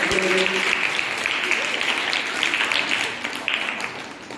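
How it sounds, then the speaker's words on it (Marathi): A school gathering claps to welcome guests, broad sustained applause from a large audience in a hall, fairly loud at first and tapering slightly toward the end, with a brief tone at the start. "सगळ्यांनी टाळ्या वाजवायचे"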